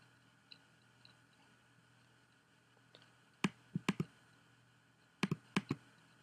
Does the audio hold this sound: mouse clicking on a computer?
yes